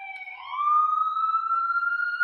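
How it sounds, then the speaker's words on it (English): A police car siren wails alone, a single rising then long sustained tone that holds steady at moderate distance with a slight wavering edge, no talk over it. "do you guys hear the sirens?"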